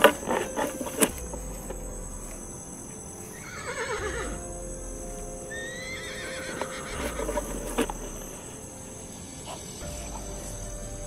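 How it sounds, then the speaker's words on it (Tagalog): A horse whinnies in drawn-out neighs at night over a steady backdrop of chirping crickets, insects and frogs, with occasional hoof clops and no talking. "Parang tunog ng kabayo."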